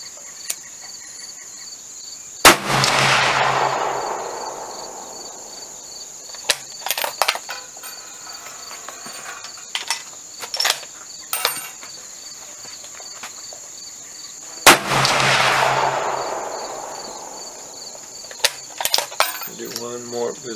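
Two loud, close rifle shots from an AR10 or Remington 700 chambered in 7mm-08 crack about twelve seconds apart on a target range. Each report booms and then fades, and small clicks and handling noises fill the time between shots.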